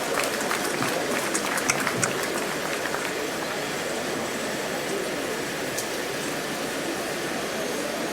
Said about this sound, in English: I think it deserves a bigger round of applause.